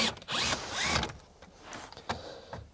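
A power tool unscrews screws from the dashboard trim of a Renault Clio 5, giving short close-up whirring bursts with brief pauses and small clicks between them.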